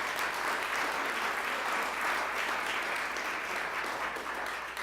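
Steady, dense applause from an audience honoring committee members at a Springfield public health month kickoff, continuous and even throughout with no voices rising above it.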